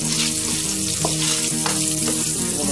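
Chinese-style noodles frying lightly in a pan, giving a steady, close sizzle with soft crackle and occasional scraping stir sounds, no voices.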